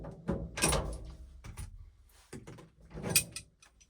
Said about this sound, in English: Door handle just pulls right off.